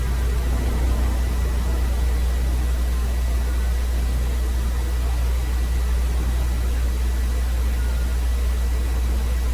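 Spaceship impulse engines in a video game run as a steady, loud, dense rumbling hiss with a deep low hum, unchanging throughout.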